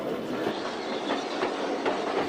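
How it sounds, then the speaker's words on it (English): Electric train running along the Brighton seafront, a steady close rumble with rhythmic clickety-clack of wheels over rail joints heard throughout. "So it wasn't surprising when an electric train appeared in Brighton."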